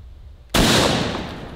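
A 12-gauge shotgun fires a single 3-inch double-aught buckshot shell at a hand grenade, one sharp, loud blast close by that rings out and decays over a second.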